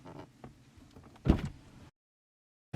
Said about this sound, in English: once you're done squeegeeing everything out, you can open the door.